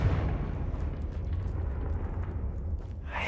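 The Confringo fire spell in the Hogwarts Legacy video game lands as a low, rumbling explosive burst that lingers as a steady roar before fading, heard faintly and without talk.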